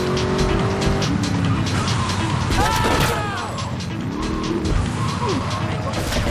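GTA3 car roars close and loud with several squealing tire skids in the middle and again near the end, a voice talking over the engine noise.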